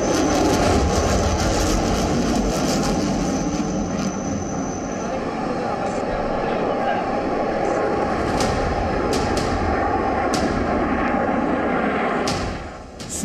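A fifth-generation stealth fighter jet roars loudly and without a break, its engine noise sustained and dense, with brief sharp clicks and crackles scattered on top.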